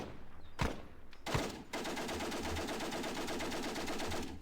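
Machine gun fire in the Squad Battles: Advance of the Reich wargame: two isolated shots, then a sustained rapid rattling burst that runs steadily to the end, moderately loud with no voices.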